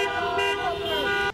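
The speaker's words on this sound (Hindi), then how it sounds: "लोगों ने विरोध जताने के लिए अपनी गाड़ियों के हॉर्न भी बजाए" Car horns honking together at a street protest rally of vehicles demanding a president's resignation, a steady sustained blare of overlapping tones that cuts off abruptly at the end.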